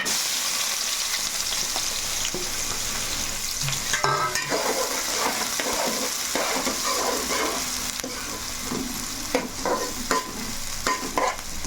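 Onions frying in a pan for a fish curry, with a continuous close sizzle broken by scraping stirs that come in irregular bursts, and nobody speaking.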